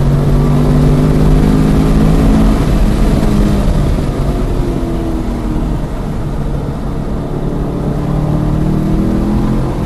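A Chevrolet Camaro SS lapping the Lime Rock race track, its V8 engine roaring loud and continuous from inside the car with steady revs that rise and fall through the corners.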